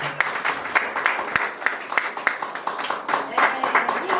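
Church congregation applauding as Christmas gifts are presented to elder members, a steady patter of many hands clapping at moderate volume with a few sharper individual claps and some voices mixed in.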